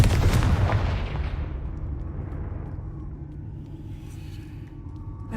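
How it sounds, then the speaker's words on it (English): A Confringo fire spell from Hogwarts Legacy explodes with a loud booming blast at the start, then a long rumbling tail that slowly fades out. "Confringo!"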